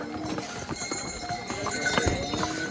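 Horse hooves clip-clop steadily on the mountain footpath to Hemkunt Sahib, a busy irregular clatter under continuous pilgrim chatter and background noise.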